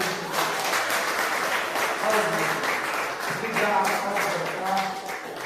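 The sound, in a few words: congregation applauding in church service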